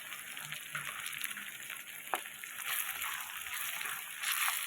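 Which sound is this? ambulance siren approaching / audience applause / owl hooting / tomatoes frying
tomatoes frying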